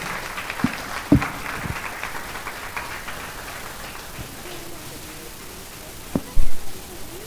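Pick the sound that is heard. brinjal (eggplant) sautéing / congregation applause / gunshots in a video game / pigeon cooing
congregation applause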